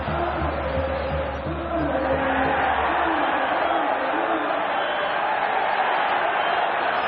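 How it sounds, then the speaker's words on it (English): Football stadium crowd during a Real Madrid versus Barcelona Clasico, a loud sustained roar of thousands rising in appeal for a free kick, with steady massed voices and no distinct individual speech. "Crowd wanting a free kick against Busquets"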